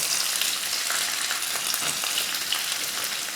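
Onions sauté in a pan alongside curry leaves, green chillies and chana dal. A steady, loud, close sizzle and crackle runs unbroken throughout, with no talking.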